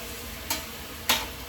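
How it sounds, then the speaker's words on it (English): Food frying in a pot on a stove for lentil chicken vegetable soup is stirred with a large spoon, two brief scraping strokes over a steady sizzle. "Just start stirring these things that's on the stove frying."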